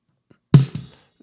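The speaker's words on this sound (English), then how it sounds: "And then we have a snare drum mic on top." A single snare drum hit picked up by a microphone above the drum, dead and tightly gated, with a sharp crack and a short rebound, loud and alone against silence.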